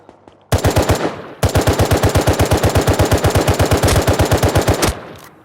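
Automatic rifle fire in the console version of the survival game Rust, loud and close: a rapid burst of shots, a short gap, then a long sustained stream of evenly spaced rounds that stops abruptly.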